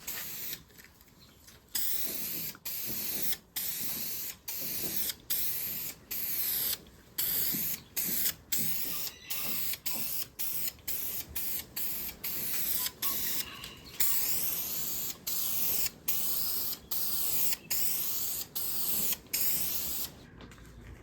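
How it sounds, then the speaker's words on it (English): Repeated bursts of aerosol spray paint hissing loudly and evenly as an old medicine cabinet is coated black, each blast a second or two long, separated by brief gaps and nozzle clicks. "Time to start spraying."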